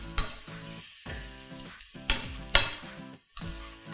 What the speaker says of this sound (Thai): ผัดไปเรื่อยๆจนไข่นะคะเริ่มแห้ง